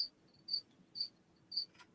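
Crickets chirp in steady, evenly spaced pulses about every half second, clear and fairly close over a quiet low background.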